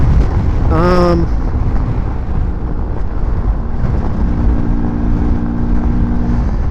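A Genuine Stella Atomic Fireball scooter fitted with a Malossi 166 kit, ridden in traffic with a steady, loud engine drone and wind rush throughout, a brief tonal horn-like sound near the start.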